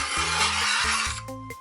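A knife being sharpened on a sharpening stone, ceramic blade possible, with steady rasping strokes that rise and fall in a few passes, close and fairly loud with no talk.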